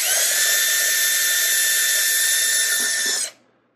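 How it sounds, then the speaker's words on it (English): A small drill bit bores a series of holes in one long, steady, loud whine that stops abruptly near the end. "is just drilling a series of holes"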